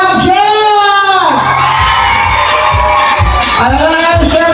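A crowd cheers and shouts loudly at a Ramadan League awards night, a dense, continuous roar of many voices with rising whoops and yells that swell and dip throughout.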